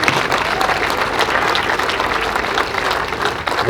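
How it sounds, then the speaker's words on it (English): A crowd applauds American Legion Post 3 at a municipal band concert, a loud, sustained round of clapping from many hands that holds steady throughout. "let's give them another round of applause"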